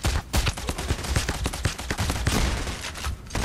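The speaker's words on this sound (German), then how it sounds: "Dallas hat durch die Wand versucht, auf ihn zu schießen." Dense, continuous gunfire from Payday: The Heist fills the whole stretch, rapid overlapping shots and bursts at steady high loudness with no talk over it.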